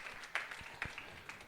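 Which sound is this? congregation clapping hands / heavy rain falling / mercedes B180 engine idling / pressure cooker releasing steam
congregation clapping hands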